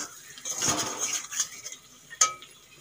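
Potatoes stirred with spices in a pan for a stingray curry, a utensil scraping and clinking against the metal in a few close, irregular strokes, ending in one sharper clink.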